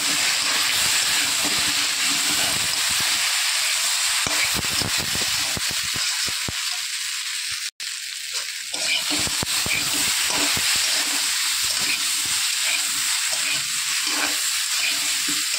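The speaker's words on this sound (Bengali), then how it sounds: "ভালো করে মশলা কষিয়ে নিয়েছি" Spices with chili powder frying in a pan, a loud continuous sizzle and hiss with scraping stirring strokes throughout, one brief break midway.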